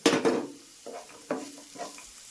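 Chopped vegetables and moong dal fry in an oiled pan for tomato rice, with a soft sizzle under a few distinct scraping stirs spaced about half a second apart, close and moderately loud.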